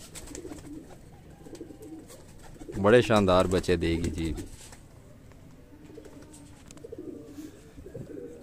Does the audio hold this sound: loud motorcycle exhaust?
no